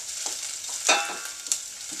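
Onion frying in a pan, a steady soft sizzle with a couple of brief louder bursts as it is stirred, close and fairly quiet, with no talking.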